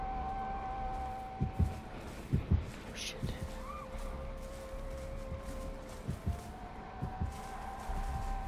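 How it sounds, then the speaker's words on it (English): The killer's heartbeat in Dead by Daylight throbs as a soft, low double thump repeating at a steady pace beneath a game hum and tones. "that's why I hear his heartbeat again"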